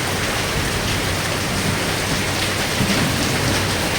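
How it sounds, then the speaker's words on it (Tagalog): Heavy rain pours down steadily in a constant dense hiss, loud and close, with no voices over it. "Lakas ng ulan."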